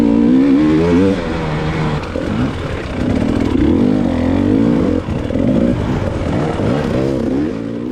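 A dirt bike races past during a hare scramble off-road race. Its engine roars loudly and close, revving and dropping in pitch repeatedly as the rider works the throttle.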